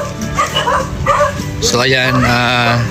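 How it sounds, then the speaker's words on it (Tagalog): Dogs bark and yip nearby, loud and overlapping, while someone speaks briefly. "Ang dami naman na aso na to."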